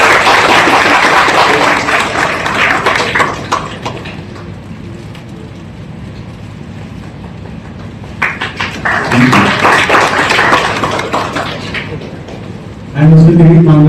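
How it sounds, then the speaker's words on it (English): Audience applause at an industry event as guests are called up and felicitated, a dense steady clatter of clapping mixed with an announcer's voice over a hall system, fading mid-way and swelling again near the end. "Please keep the applause continuing."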